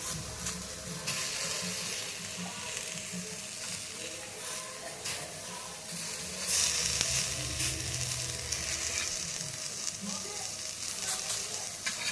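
Raw banana slices shallow-fry in a small amount of oil with a steady, close crackling sizzle and occasional soft clicks of stirring and turning, with no talk.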